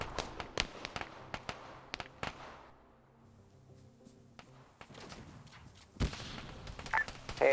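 Video game gunfire as a magazine is emptied at a driver: a string of sharp, fairly distant shots at an uneven rhythm, then a quieter stretch and further scattered cracks near the end.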